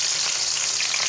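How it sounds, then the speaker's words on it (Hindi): Medium-sized onion frying in hot oil, a loud, steady, hissing close-up sizzle with no talking. "अब हम इस ऑयल में डालेंगे, ये ऑयल हमारा गरम है अभी, इसमें हम डालेंगे दरमियाने साइज़ की प्याज"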